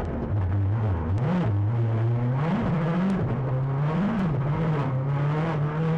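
On-board rally car engine at the East Belgian Rally 2011, loud and close, holding a steady high drone with repeated rising revs and brief dips between gear changes, no talk.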